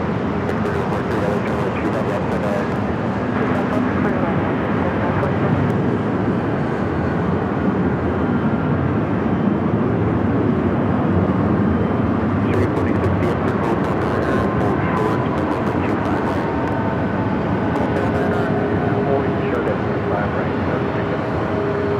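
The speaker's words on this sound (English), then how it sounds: "the Philippine 777 now makes that turn heading into one of the gates at the west gates" A Philippine Airlines Boeing 777 taxis toward a west-side gate at Los Angeles International Airport at night, a steady broad jet rumble with faint engine whine running throughout, fairly distant, with low talk underneath.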